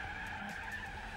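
Car tires skid and squeal through a drift in the racing game Gran Turismo 4, a brief steady screech over constant engine drone.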